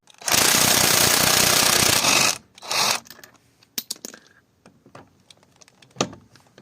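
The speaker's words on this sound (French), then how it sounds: "j'ai pris ma péteuse," An impact wrench spins off a rusty anti-theft wheel nut during tyre fitting, a loud two-second rattling burst followed by a brief second whirr, then scattered clinks and knocks of the nut and tools nearby.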